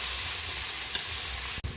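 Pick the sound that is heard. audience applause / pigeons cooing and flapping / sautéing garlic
sautéing garlic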